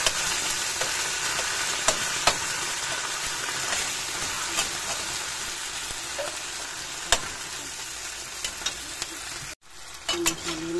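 Sardines and garlic sizzle steadily in a pan for a misua stir-fry while a utensil stirs and scrapes through them, with a brief drop in the frying sound near the end.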